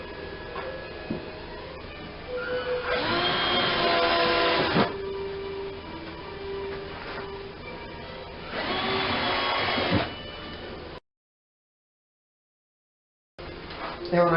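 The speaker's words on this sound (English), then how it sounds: "Drill some holes from the top, this side, so I can figure out where to put the screws from underneath." A power drill bores holes down through the top of a wooden mobile table for bench tools, in two loud whirring bursts separated by quieter stretches with voices, ending with a silent gap and a brief restart.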